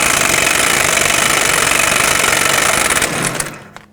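An impact wrench spins off a front axle nut with a 36mm socket on a 2005-2009 Chevy Equinox, a loud, continuous rattling hammer for about three seconds before it cuts off and winds down.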